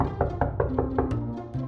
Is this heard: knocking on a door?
yes